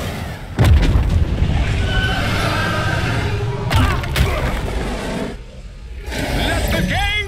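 Booming missile explosions sound during a boss battle in the Lego Marvel Super Heroes 2 video game. Several loud blasts hit over continuous game noise and music, with a brief quieter gap before the action resumes.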